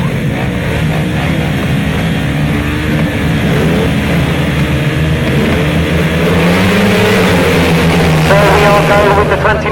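A pack of grasstrack racing motorcycles at the British Masters roars off the start line, loud engines revving and building together with an announcer talking over the din.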